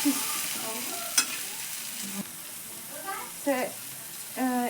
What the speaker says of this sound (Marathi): एका साईडून 10 मिनटं आणि परत दुसऱ्या साईडून एक 10 मिनटं भाजून आपली टिक्की तयार होईल